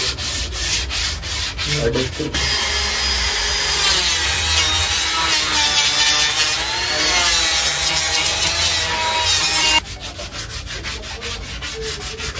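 Wood being sanded and rubbed down while a tennis cricket bat is shaped in a workshop, a loud, steady abrasive scraping that runs continuously with small shifts in pitch and no talk.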